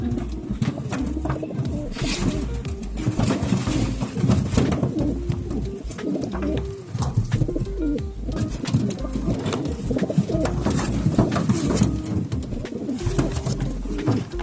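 Racing pigeons coo repeatedly in soft, rolling calls, several birds overlapping steadily throughout, close by with a constant low background hum.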